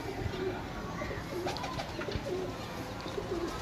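Pigeons kept in a loft coo softly several times in a row, low rounded calls over a faint background hum, with a quiet voice briefly in the mix.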